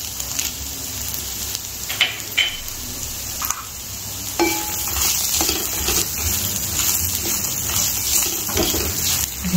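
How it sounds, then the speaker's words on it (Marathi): Bay leaf and cashews sautéing in a pan for Kashmiri dum aloo: a steady, close sizzle with scattered scrapes and clinks of a spoon against the pan, no voice. "जे काजू घेतले होते ते पण याच्यात परतणार आहे।"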